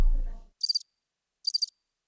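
Two short, bright bursts of cricket chirping stand alone in silence, each a quick trill of a few pulses, following a low thud that fades away at the start.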